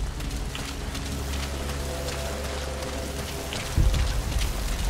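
Steady rain hisses down in Metal Gear Solid V: The Phantom Pain, a constant close wash of drops with a low rumble underneath and a brief thud near the end, no voices.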